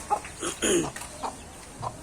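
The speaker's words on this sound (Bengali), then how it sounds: "আমার মুরগির বাচ্চা হয়ে গেছে, 3টে বাচ্চা হয়েছে অতগুলো ডিম দিয়ে" A hen with three newly hatched chicks clucks nearby in a farmyard. There are several short, soft clucks in an uneven rhythm, with no talk.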